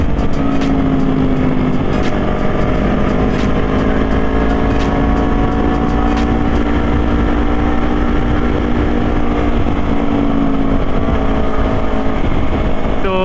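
Vehicles on a road during a holiday homecoming trip give a loud, continuous roar of engines and wind at close range, with faint pitch rises as riders open the throttle.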